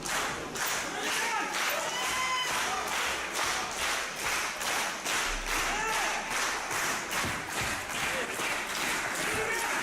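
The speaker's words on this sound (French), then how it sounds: "La foule qui applaudit Aaron Storm se prépare." A crowd at a wrestling show applauds wrestler Aaron Storm, with steady, dense clapping that continues for about ten seconds. Voices murmur underneath the clapping.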